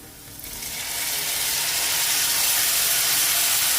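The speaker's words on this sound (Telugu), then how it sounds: "అంతా ఒకసారి బాగా కలిపేసుకొని ఈ టమాటా అంతా బాగా మగ్గే వరకు ఫ్రై చేసుకోవాలి." Chopped tomatoes hit hot oil with fried onions and ginger-garlic paste for a home-style methi chaman paneer curry, breaking into a loud, steady sizzle that swells within the first second and holds, hissing and crackling throughout.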